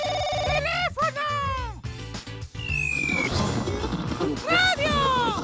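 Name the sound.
telephone ringing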